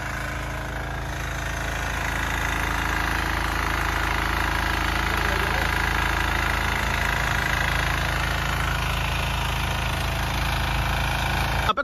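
A diesel weeder machine tills soil out in a field, its engine running loud and steady with a continuous rough chugging throughout and no pause.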